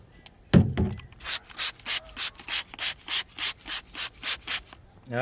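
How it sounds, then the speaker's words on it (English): A squeegee wipes a car's rear window after a steel wool scrub, giving about a dozen close, even, rhythmic rubbing strokes with no talk. "And then just squeege it."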